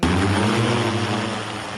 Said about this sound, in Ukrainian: Саме цей важкий дрон ворог називає Баба Яга. Його чути за кілька сотень метрів.